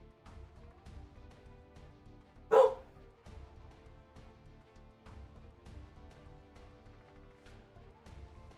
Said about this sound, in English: let me see if I can let these dogs out of here because they're kind of driving me nuts